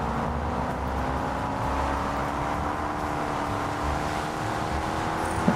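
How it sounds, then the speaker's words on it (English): Steady road roar from car tires in the racing game Test Drive Unlimited Solar Crown, a continuous close rumbling hum with no engine sound, sustained without pause. "tire noise just comes from the ghost. There's no engine sound or anything."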